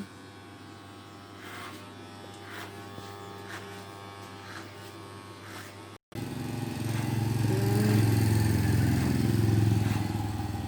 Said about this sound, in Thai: กำลังตัดผม